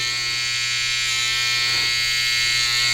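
Cheap Chinese hair clippers buzz steadily and close while trimming hair for a self-done taper fade, a constant high electric hum with no talk.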